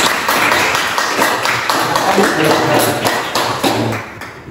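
A classroom of students claps for a presenting group, a loud, close, fairly even burst of hand claps and taps lasting several seconds.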